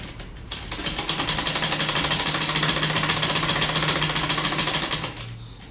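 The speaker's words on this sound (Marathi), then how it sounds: "अर्धा इंचाला ह्या ठिकाणी टीप द्यायची आपल्याला" A sewing machine runs in one steady burst stitching the shoulder seam of a kurti, a rapid even needle clatter that starts, holds for several seconds and stops, close and loud with no voices.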